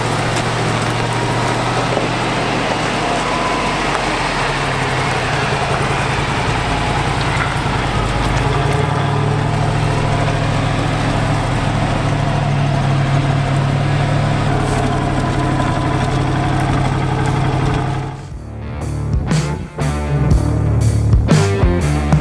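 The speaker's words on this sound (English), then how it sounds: "driving the 101 through the fjord" A Land Rover 101 drives through a fjord, its engine droning low and steady for a long stretch, with a wash of water noise, before the sound breaks into choppier bursts near the end.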